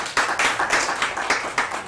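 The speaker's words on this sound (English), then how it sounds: "Yes, that deserves a clap" Scattered clapping from an audience at a speech on HIV prevalence, roughly a dozen uneven bursts of hands over two fairly quiet seconds, loose and unsynchronised.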